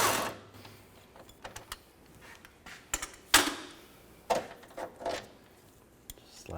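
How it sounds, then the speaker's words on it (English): Metallic clicks and ratcheting from an 18mm socket and wrench loosening a rear sway bar link bolt on a Chevy Tahoe, scattered sharp taps and short bursts with quiet gaps between them. "use an 18mm wrench on the nut and 18mm socket on the bolt."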